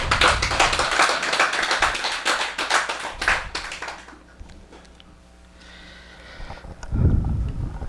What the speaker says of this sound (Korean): 우리 큰 박수 한번 부탁드릴게요